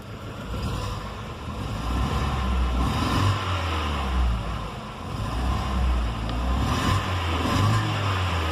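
A Chevrolet Zafira engine revs repeatedly with a rough, faltering misfire, a loud, steady near drone rising and falling in surges across the whole stretch, with no talking.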